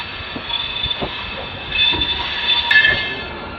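The Sachkhand Express passes under the Paharganj bridge with a steady rumble and rolling wheel noise, rising slightly toward the end with a brief high squeal.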